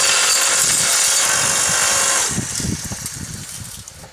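A homemade electric log splitter forge press powers up with a loud, steady mechanical whine and hiss for about two seconds, then drops to a lower, uneven rumbling churn as it keeps running.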